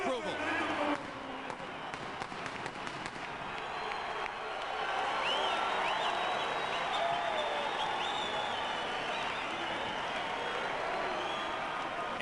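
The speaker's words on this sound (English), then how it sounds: "His deeply loyal and boisterous crowd of followers expressing their approval." Boxing arena crowd roaring and cheering as a fighter enters the ring, a dense, sustained wall of voices and whistles that builds after a few seconds, with a commentator talking over it.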